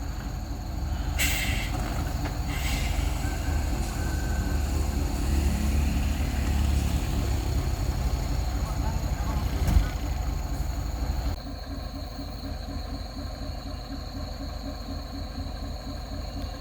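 A loaded Hino truck labours up a steep, damaged incline at Kidabuan, helping a stuck Isuzu truck, with a steady low engine rumble throughout, a brief knock near the middle, and voices underneath.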